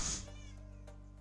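A pet cat meows in reply, a single short meow close to the microphone, followed by a lingering tonal hum in the background.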